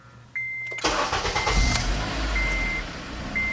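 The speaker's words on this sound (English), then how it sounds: "Let's go back in the car and turn it on" A cheap used car starts up: a warning chime pings, the starter cranks and the engine catches with a roar, then settles into a steady idle as the chime repeats.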